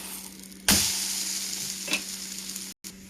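Potato and egg omelette frying in a pan after being flipped, a steady close sizzle with a sharp burst of spitting at the flip and a brief clatter near the end, no talk.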